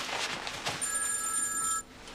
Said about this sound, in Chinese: 电话响